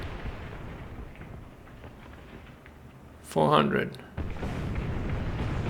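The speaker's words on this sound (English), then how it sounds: "If all that artillery could stop, that would be brilliant." Artillery rumbles and booms through a War Thunder battle, a low continuous roar with a loud burst partway through and a heavier swell of blasts after, while a voice speaks briefly.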